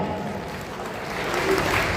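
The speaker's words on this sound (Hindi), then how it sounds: "उनका स्वागत जोरदार तालियों के साथ में" Loud applause welcoming an MLA at a Ravidas Regar Samaj Foundation gathering, a rough, steady crowd clapping that builds slightly toward the end, with a faint tonal hum and murmur mixed in.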